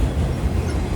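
Freight train passing on a main line, a loud, close, continuous low rumble of rolling wagons with steady wheel noise and no voices.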